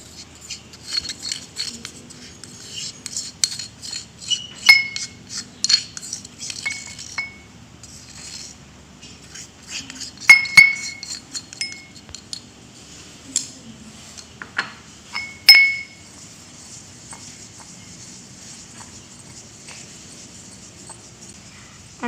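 Pharmaceutical granules being mixed in a mortar, with repeated light clinks and scrapes of the pestle against the bowl, soft and irregular, louder bursts around a few strokes, with no talking.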